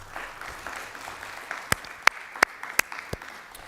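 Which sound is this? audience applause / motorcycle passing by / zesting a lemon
audience applause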